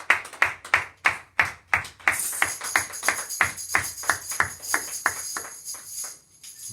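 A church congregation claps in a steady, loud rhythm of about three claps per second that keeps a regular beat throughout, with a bright ringing tone entering midway and sustaining under the clapping.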